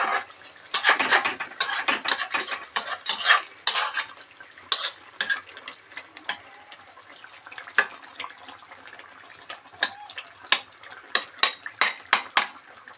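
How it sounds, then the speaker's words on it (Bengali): Gentle stirring of Bengali Amuda fish curry in a pan, heard as a run of soft clinks and scrapes of a utensil against the pan, clustered at first and then spaced into sharper separate taps, with no talk. "আর আমরা হালকা হালকা করে একবার নেড়ে দিতে হবে যাতে না মাছগুলো ঘেটে যায়।"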